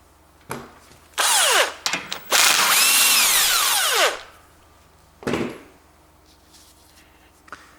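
Power tool bursts loosening and spinning out a bolt on a new snow blower during repair, several short whirring runs of a drill-type driver, close and loud, with brief pauses between them.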